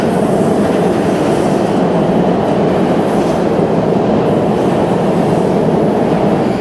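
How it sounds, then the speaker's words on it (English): A Boston subway train runs with a loud, steady rumble and rattle that fills the whole stretch without a break. "This is Boston's subway. We have trains that look pretty new."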